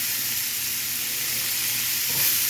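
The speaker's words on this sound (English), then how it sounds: "Now we want to add some onions, and as much as you want." Onions sizzle in a hot pan, a steady bright hiss of frying that holds evenly throughout and swells slightly near the end, with no talking over it.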